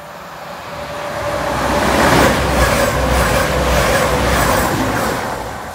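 A non-stopping train roars through East Midlands Parkway station, its rushing, rattling noise swelling and holding loud and close for several seconds with rhythmic wheel clatter.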